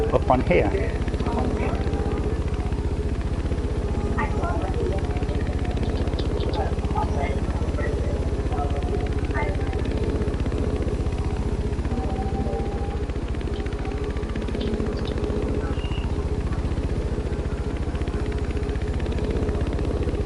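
Steady droning rotor and engine noise of a helicopter in a video game fills the background continuously while someone talks over it.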